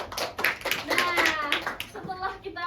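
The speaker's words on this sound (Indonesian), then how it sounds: "Tepuk tangan dulu dong untuk Isna" Schoolchildren clapping in a classroom during a micro-teaching lesson, rhythmic fairly close claps mixed with children's chatter and voices over the top.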